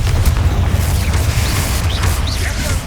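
A Confringo blasting spell goes off in the video game Hogwarts Legacy, with a heavy rumbling boom and sustained low roar, loud and close, plus scattered bright crackles from combat effects.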